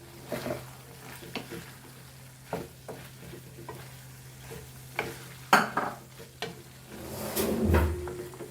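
Goan prawns chilli fry with masala cooking in a pan, soft sizzling under intermittent stirring scrapes and a few sharp knocks and clatters close by, growing louder near the end.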